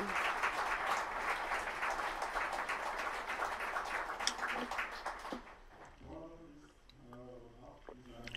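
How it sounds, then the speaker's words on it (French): Audience applause for a guest who traveled about 1000 kilometres, at a beekeeping talk; steady broadband clapping fills most of the clip, then fades out and gives way to a voice speaking. "Déjà, rien que ça mérite un applaudissement."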